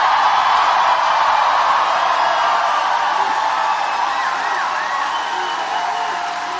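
Large political rally crowd in Raleigh, North Carolina cheers and applauds a governor candidate, a loud roaring wash of clapping, whoops and yells, sustained and dense, easing slightly at the end.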